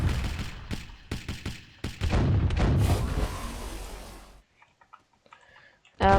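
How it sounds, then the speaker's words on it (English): Boat cannons fire in a naval combat video game, a rapid burst of sharp, loud booms and crackling blasts that thins into scattered faint pops before one more loud hit at the end, with no talk over it. "Fire off all the cannons at the people."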